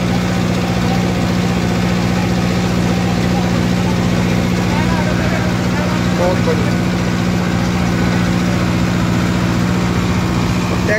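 Kubota MU5502 tractor engine idling steadily at normal temperature with a rotavator attached, a continuous loud low rumble with vibration throughout, while someone talks over it.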